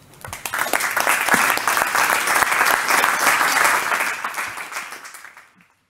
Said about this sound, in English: please put your hands together now for the Secretary General Special Envoy for Road Safety United Nations, Jean Todt.